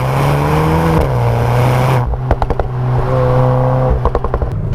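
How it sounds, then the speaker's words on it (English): A 2022 VW T-Roc R with an Akrapovic exhaust revs with a droning engine note, then lifts off and fires several sharp pops and bangs in quick bursts, close and loud. "We've got the Akrapovic exhaust, which means pops and bangs are plenty."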